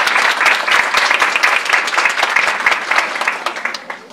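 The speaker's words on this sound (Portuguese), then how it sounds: "Pedir uma salva de palmas para o Dr." An audience at a Saturday morning school nutrition workshop gives a speaker a round of applause, with loud, dense clapping from a full room that swells early and then gradually thins out.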